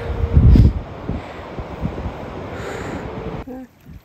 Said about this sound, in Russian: Здесь проходит река Телескол. Шумит очень.